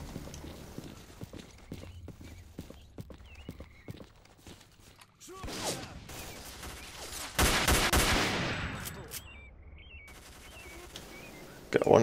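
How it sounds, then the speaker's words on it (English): Bandits fire guns in S.T.A.L.K.E.R. Call of Pripyat, with bursts of shots and a dense, louder volley in the middle amid game ambience, and a player's voice talks at points. "And they're already shooting."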